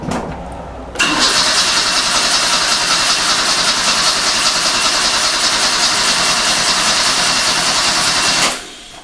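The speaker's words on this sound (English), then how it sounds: "I'm going to turn it over until it builds up some oil pressure." A restoration car's engine is cranked on the starter with the coil lead disconnected so there is no spark, building oil pressure after an oil, filter and thermostat change. The cranking churns evenly for about seven seconds, loud and close, then stops.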